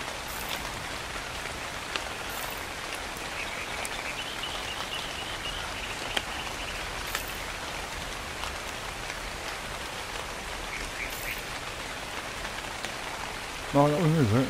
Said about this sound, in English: Oh, it's now raining.